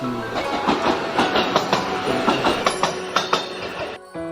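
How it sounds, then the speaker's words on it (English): A small train rumbles past nearby with a steady rolling roar and rhythmic clickety-clack of wheels, fading off at the end. "And here we see a train coming."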